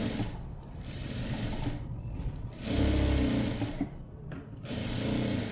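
A sewing machine stitches main cloth to lining cloth nearby, running in a few fast whirring bursts with short pauses between them.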